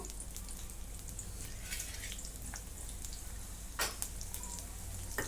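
Onion cooking in oil for homemade hair oil, giving a steady, even sizzle throughout with faint scattered crackles and one brief sharper clatter near the end, with no one talking.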